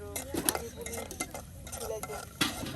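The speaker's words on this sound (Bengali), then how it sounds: "এই যে বাদাম একদম তেলে ভেজে নেওয়া হলো আর এখন নামানো হচ্ছে।" Peanuts fried in oil are lifted out of a pan with a metal utensil, giving scraping, stirring clinks and clatter over a faint sizzle.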